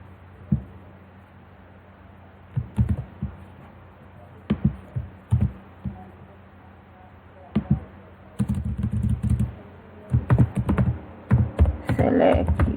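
Computer keyboard typing while HTML code is written: scattered short bursts of close, crisp keystrokes separated by pauses, quickening into denser clusters toward the end.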